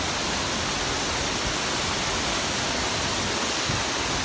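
Roaring rush of Vera Falls, a big waterfall in Bicol, Philippines, fills the air with a steady broadband wash of falling water, constant and close with no voices over it.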